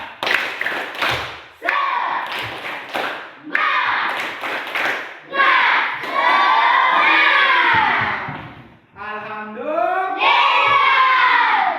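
Schoolchildren in a classroom do a rhythmic spirit clap, bursts of group clapping and thumps mixed with loud shouted chanting voices in sharp patterned phrases, close and energetic.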